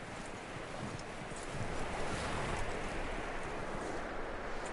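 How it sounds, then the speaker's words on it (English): A horse's hooves clip-clop in Red Dead Redemption 2, a quiet, steady stream of hoofbeats under a faint rustling, rain-like background hiss. "That looks like a decent horse."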